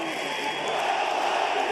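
A boxing arena crowd roars steadily during the Gassiev vs. Dorticos fight, a dense, continuous wash of cheering voices with no clear breaks.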